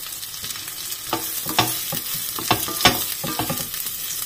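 Beef fat sizzles and caramelizes in a frying pan, a close crackling hiss punctuated by repeated sharp pops and spatters spread irregularly across the few seconds.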